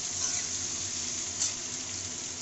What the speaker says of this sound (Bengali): লাউটা প্রায় ভাজা ভাজা হয়ে গেছে।